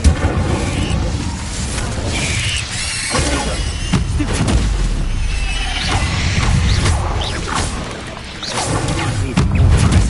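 Hogwarts Legacy's Incendio fire spell, cast amid combat with spiders: a roaring, crashing blast of flame with whooshes and thuds, loud and continuous for the whole stretch, mixed with game effects.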